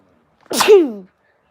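A single loud, sharp sneeze, close by, in an otherwise quiet room.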